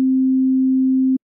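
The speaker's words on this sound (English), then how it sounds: "A sine wave." A pure sine-wave test tone holds one steady low pitch, loud and unwavering, for just over a second, then cuts off abruptly into silence.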